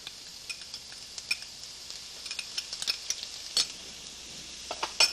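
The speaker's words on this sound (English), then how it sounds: "And stir." A spoon stirs garlic, glazed onions and peppers in a pan for marinara sauce, giving a soft background sizzle broken by scattered scraping clicks and taps, close but fairly quiet.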